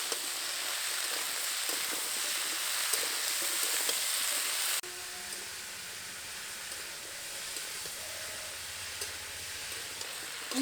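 Vegetables and malabar spinach fry in a pan, a steady hissing sizzle that drops noticeably quieter halfway through, leaving a faint, low sizzle with occasional light clinks.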